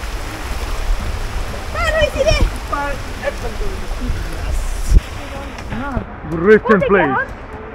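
A waterfall and stream in a hilly jungle after rain, a steady rushing wash of water that runs under several people talking nearby.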